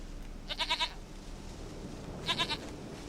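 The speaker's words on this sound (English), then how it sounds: "Goat of mine, dearest, sweetest goat." A goat in The Witcher 3: Wild Hunt bleats twice, each a short wavering burst of a few pulses, the calls about two seconds apart and clear over a soft ambient bed.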